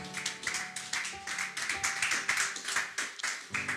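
A church congregation applauding after a French-language sermon, a steady run of close, crisp hand claps in rapid rhythm lasting a few seconds.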